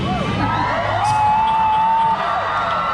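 Audience at a medieval dinner-and-tournament show in Dallas, Texas cheering and whooping as a dense, sustained crowd roar, with one high held whoop rising above the noise.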